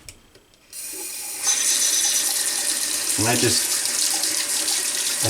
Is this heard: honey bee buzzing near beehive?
no